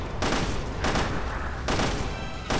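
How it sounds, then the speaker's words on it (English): Magnum gunshots in the video game Resident Evil Revelations 2, three loud booming shots about a second apart, each with a long reverberant tail. "I just shot a magnum shot."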